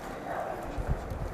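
Horse hooves clip-clop on ground in the Camargue countryside near Saintes-Maries-de-la-Mer, a few uneven, dull thuds over a steady outdoor background.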